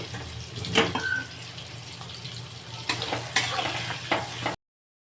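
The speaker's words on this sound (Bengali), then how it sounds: "এই যে পেঁয়াজ কেটে রেখেছি ওগুলোকে ভেজে নিই" Chopped onions fry in a pan, giving a steady close sizzle with a few sharp clinks and scrapes of stirring, and no voices.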